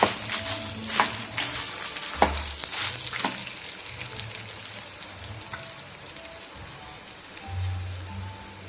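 Coriander seeds and lentils crackle as they dry-fry in a pan, a busy patter of small pops under a few louder scraping strokes as they are stirred, close by and without talk.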